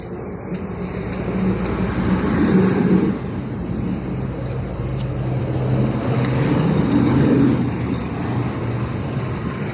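A delivery truck arrives at a residence, its low engine rumble steady and close, rising and falling slightly as it pulls in, with no talk over it.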